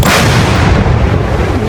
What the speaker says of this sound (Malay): hari ni kita akan bakar apa? Meriam batang-batang buluh.